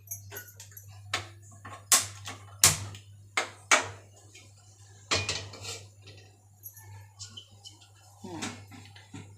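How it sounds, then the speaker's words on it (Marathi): A cooking pot is set down on a gas stove with several sharp metallic clanks and knocks, spaced irregularly over a low steady hum, with faint voices in the background. "आणि गॅस आहे ना ऑन करून पातेलं ठेवून देऊया."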